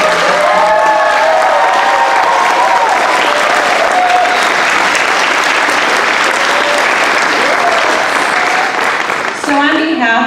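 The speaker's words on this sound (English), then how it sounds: "give Chief Becker and his staff a huge round of applause for all the things they've done." Loud sustained applause from the audience at a 2016 DARE graduation ceremony honoring a police chief and staff, steady and dense for about ten seconds, with children's voices and cheering layered over it before fading near the end.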